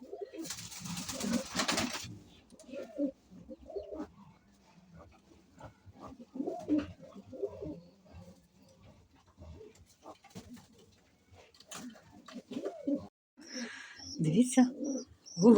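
Soft pigeon cooing repeats in low murmuring phrases, mixed with scattered bird calls, including pheasant chicks, and a brief burst of noise near the start, fairly close by.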